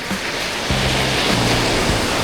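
Small ocean surf, about half a metre high, breaking at a surf beach in the early morning: a steady, broadband wash of rushing water with a faint low rumble underneath and no voices.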